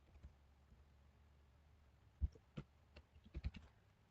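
Keys clacking on a computer keyboard while C code is typed in Turbo C, a scattering of quiet, irregular taps that bunch into a quick burst near the end, close by in a quiet room.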